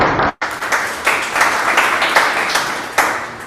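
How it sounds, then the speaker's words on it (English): An audience at a Salesforce developer talk bursts into applause to welcome speaker John Nelson, a steady, close wash of clapping that starts sharply after a brief silence and holds for several seconds. "give John a round of applause"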